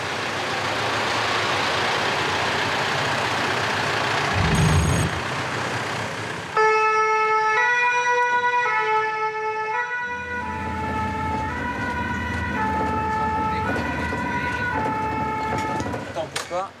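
A fire truck leaves the station with its siren wailing, and a tonal two-note horn pattern cuts in partway through. Loud engine rumble sits under the siren, and people talk over the noise.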